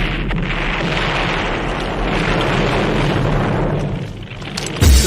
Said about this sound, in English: Who got the rocket launcher? I say we blow it up. Now fire that thing.